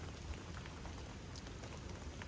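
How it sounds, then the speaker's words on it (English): Steady rain falls in Houston, Texas, a dense, even hiss of drops on surfaces that stays constant throughout, fairly faint and with no voices. "I think it's gonna rain for a little while more"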